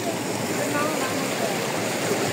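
A river stream flows in a constant broad rush of water, loud and close, steady for the whole stretch with no clear voices over it.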